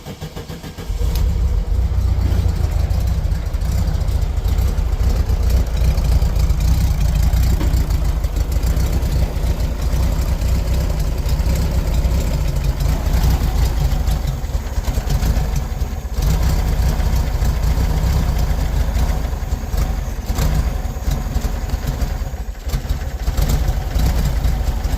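A 1973 VW Beetle engine idles roughly and unevenly, a loud, steady low rumble that runs alone and close for the whole stretch after a brief start.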